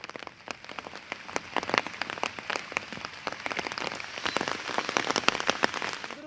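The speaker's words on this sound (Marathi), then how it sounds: "सकाळपासूनच पावसाची ही रिपरिप आहे ती सुरू आहे" Steady monsoon rain patters on a surface in Sindhudurg, with dense, irregular drops tapping continuously and no voices.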